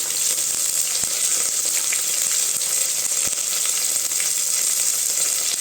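Curry leaves, sliced onion and green chili with cinnamon and cloves fry hard in hot oil for a South Indian vegetable rice, giving a steady, close, loud sizzle with a few faint ladle taps.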